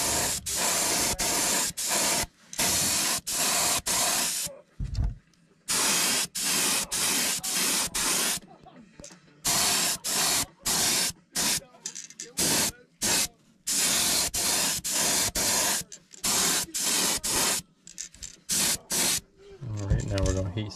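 Airbrush spraying white base coat paint onto a fishing lure, a loud continuous hiss broken into repeated bursts of a second or two with short gaps, close up throughout.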